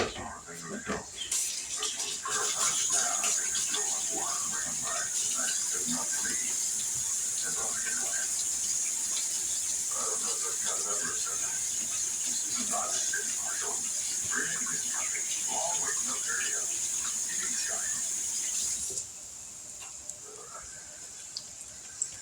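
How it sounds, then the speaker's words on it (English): Tap water runs steadily while hands are washed in a home kitchen sink during cooking, a continuous hiss with soft splashes that cuts off near the end. "Let me wash my hands."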